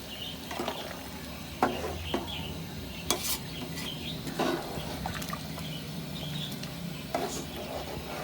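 Spiced kaleji (liver) masala being stirred and fried in a pan, with a steady low sizzle under scattered clinks and scrapes of a utensil against the metal, close and fairly quiet, no talking.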